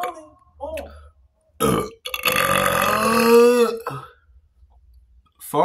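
Several deliberate, exaggerated burps, one long drawn-out belch dominating the middle with a strained, ridiculous tone, shorter burps before and after, up close and loud with no talk.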